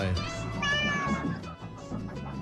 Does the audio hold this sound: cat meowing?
yes